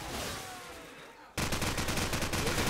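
AK rifle fire in a competitive video game match bursts out abruptly after a quieter stretch, a dense rapid volley of loud shots continuing to the end.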